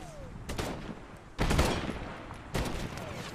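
Gunfire in Medal of Honor crackles in three rough bursts of rapid shots, loud and close, each fading into a noisy rumble.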